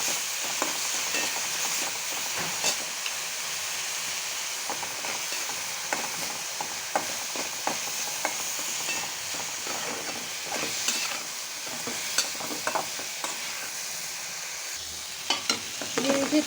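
Onions sizzle and fry steadily in a pan while being stirred, with scattered scraping and clicking taps over a continuous bright hiss and no voices.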